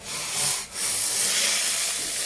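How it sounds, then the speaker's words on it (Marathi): Hot water poured into a pot of simmering medium-sized prawn masala, cooked in a clay pot, gives a loud steady hiss of steam and sizzle with a brief dip near the start, no talking. "आता आपण गरम पाणी घालूया त्याच्यामध्ये."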